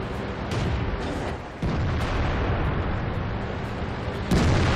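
Booming artillery fire from the tank video game World of Tanks, with a dense, rumbling roar and a few heavy blasts rising out of a continuous loud explosive wash.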